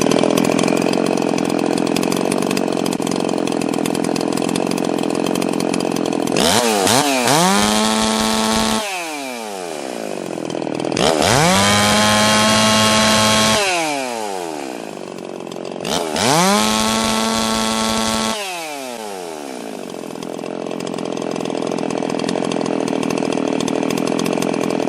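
A ported chainsaw screams at high revs in three long bursts, each snapping up from a low idle to a piercing full-throttle whine, holding for several seconds, then dropping back, loud and close with no talking.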